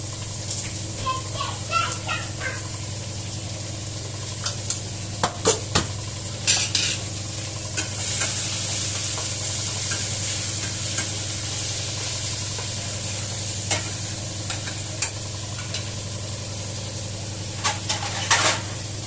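Tomatoes and salt sizzle in a hot pan while a utensil stirs them, making steady frying noise. Scattered scrapes and clinks against the pan punctuate the sizzle.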